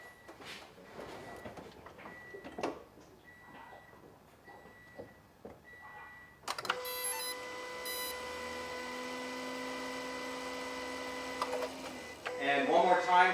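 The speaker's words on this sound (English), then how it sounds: "it's that sequence of like high-pitched beeps" A few short electronic beeps, then a sustained high-pitched electric whine from an electric supercharger motor starts up and holds steadily, with a low hum and a voice near the end.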